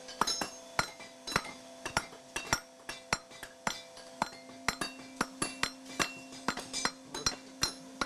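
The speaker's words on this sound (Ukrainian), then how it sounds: "Її добре розігрівають і виковують молотом." Repeated metallic hammer strikes ring out against heated rebar on an anvil in a forge, sharp clanging blows in a steady, slightly irregular rhythm.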